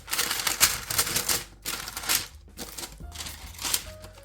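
Parchment paper crinkles and rustles in bursts as a Black Forest roll cake is rolled up close by, soft and irregular with short pauses.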